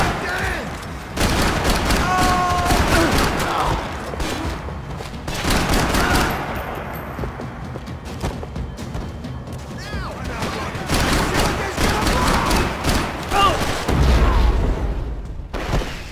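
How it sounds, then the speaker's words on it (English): Dense bursts of gunfire and rattling automatic shots crackle continuously, with occasional heavier booms, all loud and close with no talking, in the video game Max Payne 3. "Gunfire over Hoboken"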